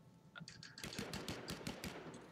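Rapid gunfire in the survival shooter game Last Man Standing, a quick burst of sharp shots after a few faint tones, fairly quiet and alone.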